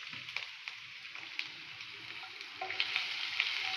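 Green chillies tipped all at once into well-heated oil for a homestyle chicken fry give a steady, close frying sizzle with small pops and crackles scattered throughout, no voices over it.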